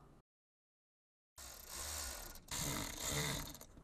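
Bolts being tightened with a ratchet during a car radiator replacement: a close mechanical clicking and grinding after a brief silence, continuing for a couple of seconds in two bursts, with no speech.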